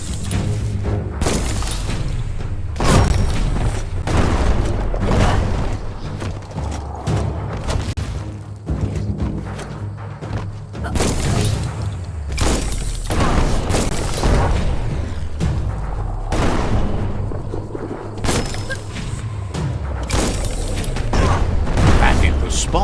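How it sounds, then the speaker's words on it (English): Explosions from the bomb lobber weapon in the video game Biomutant burst repeatedly, sharp booming blasts and clattering mechanical clicks spaced irregularly, loud and close, with talking in between. "Bomb lobber."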